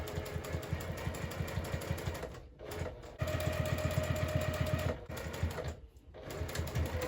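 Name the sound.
sewing machine stitching fabric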